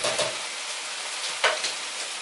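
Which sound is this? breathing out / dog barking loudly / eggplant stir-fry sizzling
eggplant stir-fry sizzling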